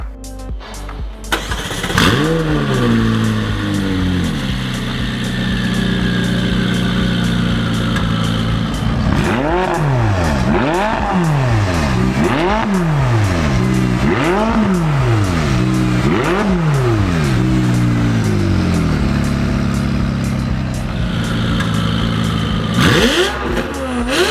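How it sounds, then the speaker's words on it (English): A tuned McLaren out on a road test, its engine starting and then revving repeatedly through rising and falling sweeps, loud and close throughout with no talking. "We'll get the car off the dyno, give it a quick road test, gather some data and make sure everything's doing as it should"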